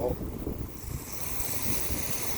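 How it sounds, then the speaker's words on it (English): Strong outdoor wind in Kamloops, BC, rushes and buffets the microphone in a steady, broad roar with gusty surges, fairly faint overall and without talk. "It's windy every day."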